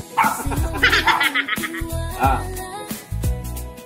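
Several puppies yip and bark in quick, high-pitched bursts close by, with short whimpering tones between the clusters.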